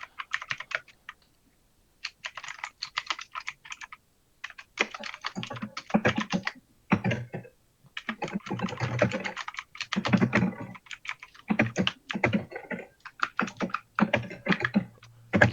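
Someone types on a computer keyboard during a live tabletop role-playing game session, with quick bursts of key clatter broken by short pauses, fairly faint and steady, with no voices.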